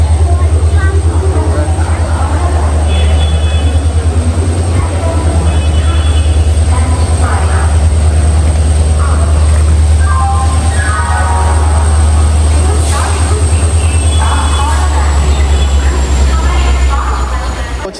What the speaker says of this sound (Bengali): এই দেখো ট্রেন দিয়ে দিয়েছে 21 নম্বর প্ল্যাটফর্ম থেকে 22895 বন্দে ভারত এক্সপ্রেস হাওড়া পুরী